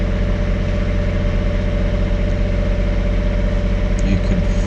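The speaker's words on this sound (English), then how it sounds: "as the engine builds up speed" The engine of the Hume ferry on the Manchester Ship Canal gives off a loud, steady, throbbing drone with a tight, regular pulse, holding close and constant throughout.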